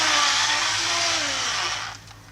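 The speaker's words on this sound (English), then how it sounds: "turn your drill to the lowest setting, hit a few passes, then turn up your drill again." A drill fitted with a polishing pad works over a car headlight lens, giving a loud, close whir with a slight pitch sweep that fades as the motor winds down.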